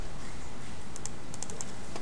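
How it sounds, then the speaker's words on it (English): Close, crisp keystrokes on a computer keyboard, a short burst of several taps over a steady background hiss. "typing in bitmap."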